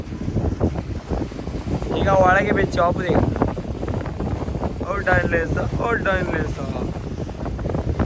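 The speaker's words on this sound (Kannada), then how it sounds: "ಗಾಳಿ ಜೋರು" Strong wind buffets the microphone in a steady roar, with people talking over it throughout, at night by the sea among fishermen.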